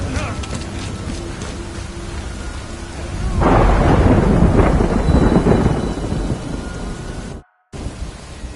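Steady rain hisses through a Death Stranding game scene, and a loud roll of thunder swells midway, rumbling for several seconds before easing back into the downpour, with a brief dropout near the end.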